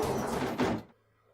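A door opens in the video game Persona 4, a short close creaking and sliding thud lasting under a second before cutting to quiet.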